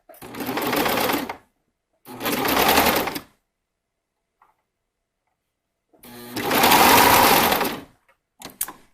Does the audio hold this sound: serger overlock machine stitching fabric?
yes